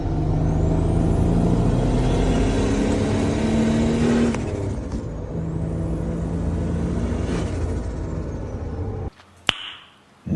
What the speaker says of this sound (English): that's when you wide open throttle, you have all the boost, it's rowdy,